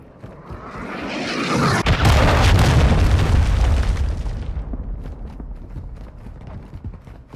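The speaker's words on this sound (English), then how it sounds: "Hostile cruise missile incoming." Cruise missile strike in Modern Warfare II: a huge boom erupts, then a long rumbling roar slowly fades, loud and close, with scattered crackling debris afterward.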